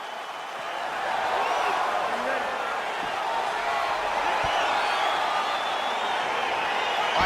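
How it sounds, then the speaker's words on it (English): An arena crowd in the UFC 4 video game at the start of a bantamweight fight, a steady broad roar of cheering that swells after the first second and holds, with scattered whoops and thuds. "crowd getting excited as this fight gets underway"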